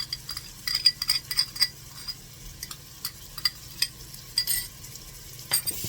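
Crushed garlic sautéing in a pan gives a soft sizzle beneath quick metallic clinks and scrapes of a utensil stirring in short bursts.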